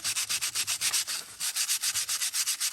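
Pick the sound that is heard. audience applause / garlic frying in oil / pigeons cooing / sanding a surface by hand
sanding a surface by hand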